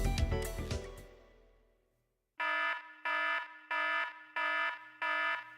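An alarm from the video game Dark Cloud: after a fading burst of game sound and a brief silence, a bright electronic buzzer beeps five times in a steady, evenly paced pattern, loud and clear.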